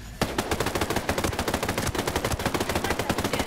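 Rapid automatic gunfire from Ghost Recon Breakpoint erupts after a brief quiet start and rattles on in a loud, fast, steady burst of repeated shots with no talk.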